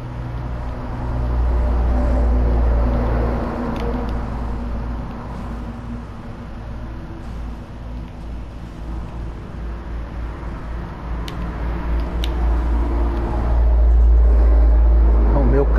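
A damaged, smoking car engine in GTA Online's Sumo adversary mode gives a heavy, continuous low rumble that holds steady throughout and swells louder near the end.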